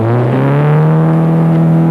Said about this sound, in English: Mick Howard being very spectacular in the Datsun. Husband and wife team. going very quickly downhill.